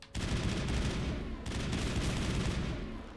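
Assault rifle fire in the video game Mass Effect, two loud sustained bursts of rapid automatic shots with a short break between them, close and dominant with no talking.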